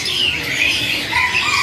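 Caged birds at the Pramuka bird market in Jakarta give loud, overlapping squawks and shrill calls close by, a busy continuous chorus with no talking.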